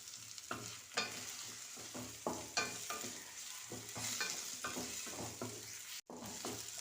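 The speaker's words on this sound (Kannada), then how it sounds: "ಇವಾಗ ಅದನ್ನು ಕ್ಲೀನಾಗಿ ಫ್ರೈ ಮಾಡ್ಕೊಬೇಕು." Chopped tomato fries in a hot pan, a steady close sizzle broken by repeated scraping stirs of a spoon against the pan, with no voices.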